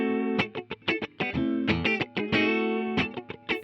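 Distorted electric guitar playing a chopped, rhythmic riff with short stabs and sustained chords, dry with no reverb tail, loud and alone with an effects-processed tone.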